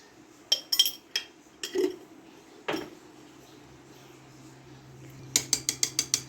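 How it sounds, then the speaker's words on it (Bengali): A utensil taps and clinks against a bowl as two eggs are beaten with a pinch of salt. The sharp strikes come in scattered pairs at first, then turn into a quick, even run of beats at the end. "এটাকে ভালো করে ফাটিয়ে নেব"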